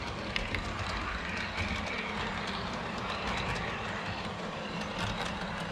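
A Conrail model train running on the top level of a layout, producing a faint continuous rumbling clatter with small clicks over a steady low background hum.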